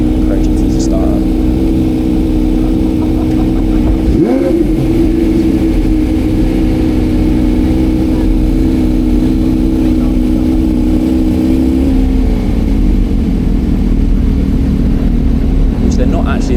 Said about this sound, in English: See if we can get this Carrera GT to start up.